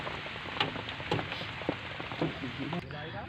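Steady rain patters and drips on a nearby surface, with scattered louder droplets; a voice briefly speaks over it.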